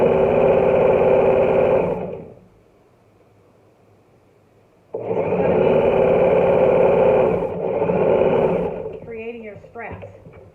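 A sewing machine runs in two long, loud bursts while it stitches the straps of a reversible child's apron. The motor hums steadily through each run, with a short pause between them and a brief clatter at the end.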